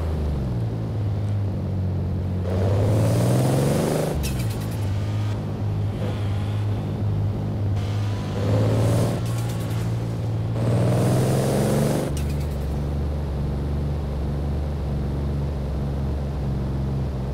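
A Supra's engine in Forza Horizon 4, voiced by a human imitating an engine, revs up through several gears with rising droning sweeps that drop abruptly at each shift, loud and continuous.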